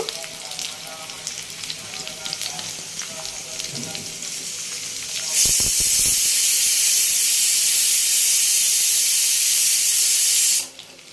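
A pressure cooker vents steam during cooking of a malabar spinach and prawn dish, first with faint kitchen clatter, then a loud, steady hiss bursting in midway and cutting off abruptly near the end.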